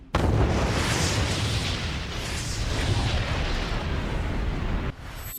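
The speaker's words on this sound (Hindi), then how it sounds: "ईरान ने सेंट्रल इजराइल में सिज्जिल मिसाइल से अटैक किया जिससे इजराइल में भारी तबाही हुई है।" Explosions from an Iranian Sejjil missile attack on central Israel, a sustained loud rumbling roar with heavy low boom that continues unbroken for several seconds, then drops off abruptly near the end.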